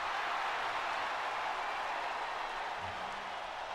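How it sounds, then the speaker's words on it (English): Wrestling arena crowd at WrestleMania IV cheering and applauding for the Ultimate Warrior, a steady, distant roar of many voices and clapping, fairly faint and without talk over it. "Well, the crowd goes wild for this man."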